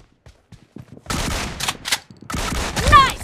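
Gunfire from the PUBG Mobile battle royale video game in team deathmatch mode, loud and close, with bursts of rapid shots and crackling impacts after a quiet lead-in.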